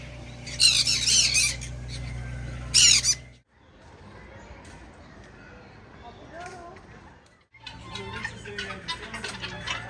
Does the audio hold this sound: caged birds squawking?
yes